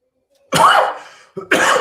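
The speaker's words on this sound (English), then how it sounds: "I'm getting over some kind of cough" Two harsh coughs from a person getting over a cough, close to the microphone, one long, then a short break and a second one, in an otherwise quiet setting.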